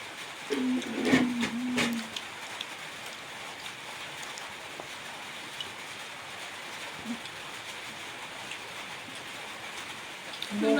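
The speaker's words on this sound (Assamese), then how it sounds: "বৰষুণে দি আছে" Steady rain falling throughout, a dense even hiss with a voice briefly heard near the start.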